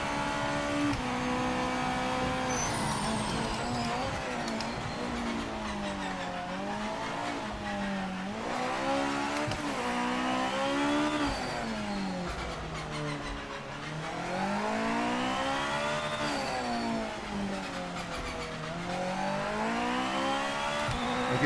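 A GT500 race car lapping a circuit in the Project Motor Racing video game: a loud, continuous engine note climbs and falls repeatedly through upshifts and braking downshifts, with faint tire noise and no voices.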